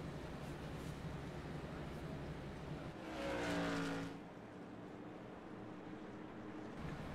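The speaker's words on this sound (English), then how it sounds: "Cars lining up side by side" Race cars in a racing video game rumble steadily as they line up on a darkening track, with a louder passing roar swelling in the middle before the idle hum settles back.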